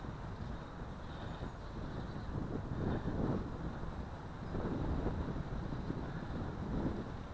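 Wind gusts buffet the microphone in a low, uneven rumble, swelling and easing over several seconds with no voices.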